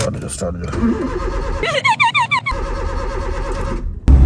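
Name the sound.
car engine starting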